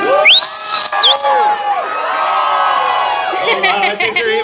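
Festival audience at a Renaissance fair yelling and whooping in a cheer-off, loud shrill shouts from many voices rising and falling continuously, close and energetic with children's screams mixed in.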